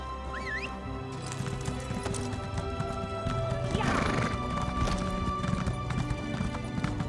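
Horse hooves clip-clopping at a steady galloping rhythm in The Elder Scrolls Online, close and continuous, with a horse whinnying briefly near the start over a low game-music bed.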